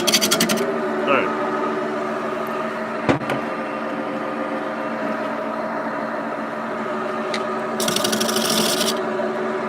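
A wood lathe turns a hollow form, a steady hum with scraping and rasping tool contact and brief louder bursts of cutting.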